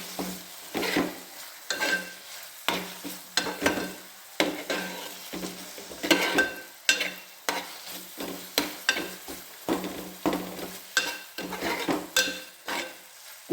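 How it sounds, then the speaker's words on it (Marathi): Onion, tomato and coriander fry in a pan for pitla, with steady sizzling broken by repeated scraping stirs of a utensil against the pan, close and fairly loud, with no talking. "कांदा हे झाला ना, टमाटा टाकला आणि थोडी कोथिंबीर टाकली."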